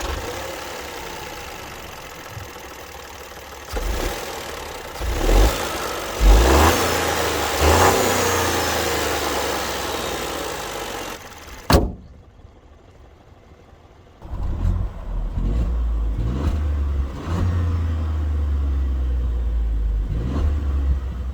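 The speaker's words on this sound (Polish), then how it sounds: "Jak słyszeliście, silnik brzmi charakterystycznie dla rzędowej trójki, tak jakby warkocze" An Opel Astra L with a 1.2 turbo inline-three making 130 horsepower, idling with a throaty, uneven three-cylinder thrum, then revved several times in short rising bursts before settling back to a low idle; no talking.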